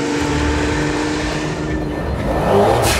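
A Mercedes C600 engine revs hard as the gas pedal is pressed, a loud, close, continuous roar with a slight rise near the end.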